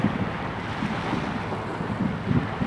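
A banana boat ride on the sea at Kemer, Turkey, heard as steady wind buffeting and the wash of waves and water, with a low boat rumble running throughout and no talking.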